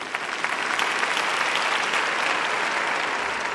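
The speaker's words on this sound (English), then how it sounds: "Now let's give our brave participants an applause for their assistance." Continuous, lively applause from a group, dense and even across the whole span with no speech on top.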